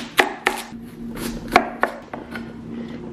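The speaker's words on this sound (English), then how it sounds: "Just square off the daikon and cut little slices up." A knife slices squared-off daikon radish on a cutting board, about seven crisp, close knocks at an uneven pace, with a low steady hum running underneath.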